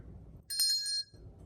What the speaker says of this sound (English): I have 2 of these really pretty brass Christmas bells